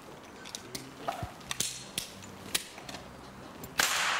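Several sharp cracks and snaps go off at irregular intervals outdoors, ending in a louder burst with a hissing tail.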